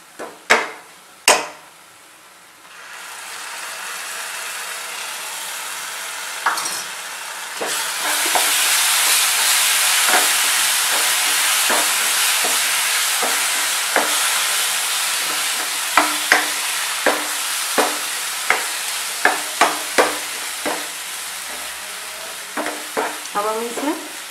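Tomatoes tipped into a pan of masala and frying onions for dum aloo, with a loud steady sizzle rising after a few sharp clanks and continuing under repeated spoon taps and scraping against the pan.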